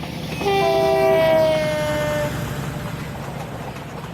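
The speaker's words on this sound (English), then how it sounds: "that that rail joint sound clack clack clack is really not nice" Train Simulator railway wagons rumble and clack steadily over rail joints behind a Class 58 locomotive while a train horn blares briefly near the start, then the rolling noise carries on alone.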